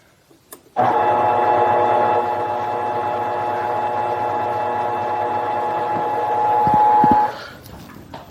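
A mini lathe power tapping a thread runs under heavy load, a steady motor hum and whine that holds for several seconds, then strains louder before cutting off, with a couple of clunks at the end.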